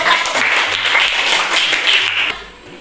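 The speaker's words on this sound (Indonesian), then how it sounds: "Ya, tepuk tangan betul." Classroom of students clapping together for a correct answer about plant roots, a dense, steady round of applause that fades near the end.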